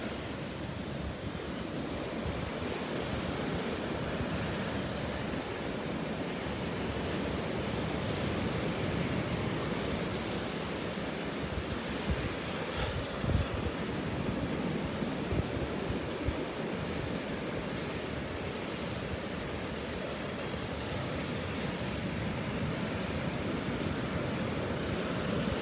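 Ocean surf breaks on a beach in North Naples, Florida, at sunrise, making a continuous broad wash of rolling waves with some wind rumble, steady and unbroken for the whole stretch.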